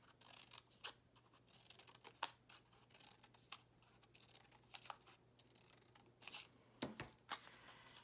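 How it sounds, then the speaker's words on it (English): Scissors snipping parallel cuts into a sheet of paper to make fringes, a series of quiet, crisp irregular snips and rustles close by against a faint steady background hum. "You can create fringes by taking a piece of paper and cutting upwards"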